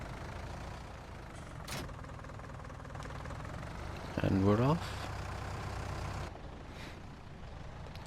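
A Fiat tractor in Farming Simulator 19 drones along at a steady, low engine rumble, with a voice briefly speaking over it midway.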